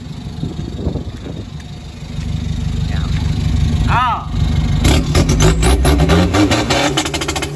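A remapped 1.9-litre 2020 engine with an aftermarket wastegate idles with a deep rumble from exhaust piping under the driver's seat, then revs up sharply and loudly near the end, with a voice speaking over it.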